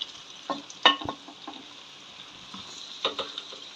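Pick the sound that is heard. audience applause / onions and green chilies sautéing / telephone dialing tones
onions and green chilies sautéing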